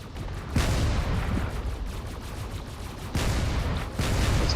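Cannons in the Drone Wars space game pounding a carrier, a dense continuous barrage of booming fire with heavier surges every second or so, loud and close.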